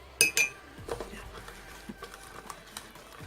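A utensil stirs a sticky homemade slime mixture with borax added, giving quiet scraping and clinking taps against the bowl: a few sharper clinks at the start, then softer irregular stirring noises, fairly close and without talk.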